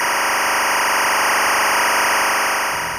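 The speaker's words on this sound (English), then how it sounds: "The timecode sounds horrible, by the way. No one wants to listen to it." Harsh, continuous buzzing timecode audio signal from a Tentacle Sync device, loud and grating with a steady high whine, unchanging until it briefly softens at the end.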